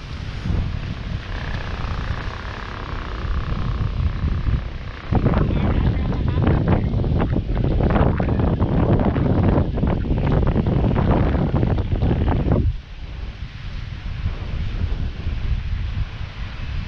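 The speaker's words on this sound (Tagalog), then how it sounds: "Medyo malakas ang hangin sa Bolabog Beach." Strong wind gusting across Bolabog Beach on Boracay during kite surfing, a loud steady roar battering the microphone throughout, swelling heavier through the middle stretch before easing slightly.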